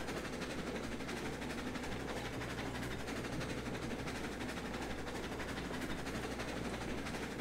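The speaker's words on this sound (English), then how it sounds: "I figured it'd be fun to just try running a larger train around anyway." A long freight train of 29 cars pulled by a Tenmile locomotive in the video game Railroads Online rolls along as a steady, dense rumble with faint rail clatter, continuous and moderately loud with no talking.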